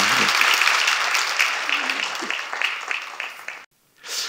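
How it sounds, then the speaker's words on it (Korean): A church congregation gives a round of applause during a televised Korean sermon at Hanam Church: full, steady clapping that thins into scattered claps, then a sudden cut and a short burst of sound. "우리 박수 한번 주시기 바랍니다"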